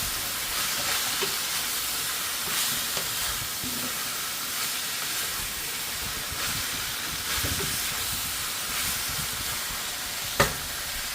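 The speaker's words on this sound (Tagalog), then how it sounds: "Haluin natin." Pork adobo is stirred in a hot pan, with a steady hiss and sizzle, occasional scraping strokes of the utensil, and a sharp clink near the end.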